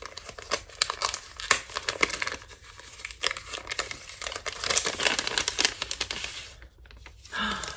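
Hands tear open a wrapped gnome knit-along advent clue package, making close, continuous crinkling and rustling of paper with sharp crackles and a brief quiet pause near the end.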